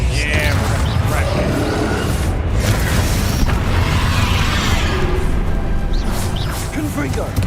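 Bombarda and Confringo spell explosions in Hogwarts Legacy, repeated heavy booming blasts over a loud, dense backdrop of game sound, with a voice calling out spells.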